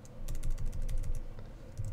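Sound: typing text on a computer keyboard

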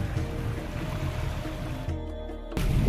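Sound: ocean waves on the beach at Coconut Island, Goa

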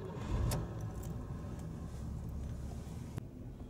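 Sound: car engine running after a cold start

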